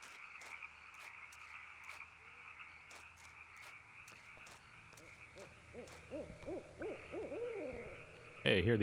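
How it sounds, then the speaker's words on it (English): Owl hoots in the video game Kentucky Route Zero, repeated calls over a faint ambient bed with scattered clicks, growing more prominent toward the end. "Hey, hear the owl."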